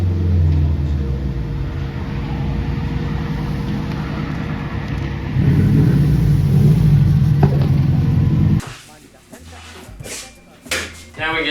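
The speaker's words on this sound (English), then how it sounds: "Alex is pulling up right now in his Subi" A Subaru pulling up gives a steady low engine rumble that swells midway, then cuts off abruptly, leaving a few clunks and quieter handling sounds.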